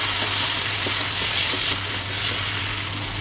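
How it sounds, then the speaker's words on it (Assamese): Chopped tomatoes, coriander powder and half-cooked brinjal fry in a pan as they are stirred, giving a loud, steady, close sizzle with faint scraping and no talking. "বিলাহীখিনি দি দিলোঁ আৰু এতিয়া ভালদৰে লৰাই দিম"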